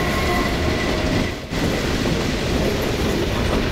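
A train rumbles past in the Half-Life 2 video game, a steady loud roar of rolling rail cars with faint clickety-clack, briefly dipping midway before continuing at full strength.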